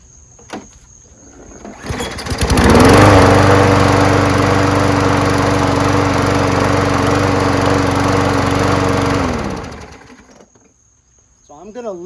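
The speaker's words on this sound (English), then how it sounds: "as an old and ugly mower, but it works and it's self-propelled and it has a bag" A Craftsman self-propelled front-drive lawnmower with a 6.5 HP Briggs & Stratton Quantum engine starts up after a brief pull and runs loudly at a steady idle for several seconds, then cuts off and winds down to quiet.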